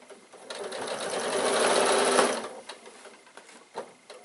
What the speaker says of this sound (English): And then we're going to sew the straps on.